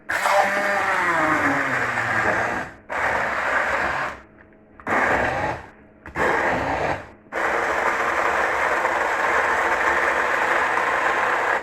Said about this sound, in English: So let the blender do the work.